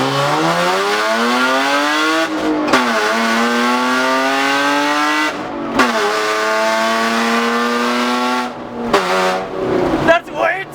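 A straight-piped BMW exhaust revs hard in a suburban setting, loud rising engine sweeps repeated in several long pulls with brief drops between, close and harsh.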